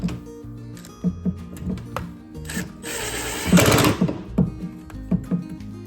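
A power driver runs screws to fix base cabinets onto their subbases, with a longer whirring burst amid short whirs and knocks of wood.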